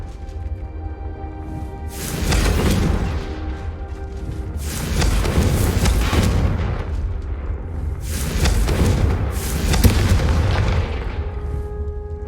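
Repeated explosive spell blasts from the Hogwarts Legacy video game, a series of loud booming bursts roughly every few seconds over a continuous low rumble, with no talking.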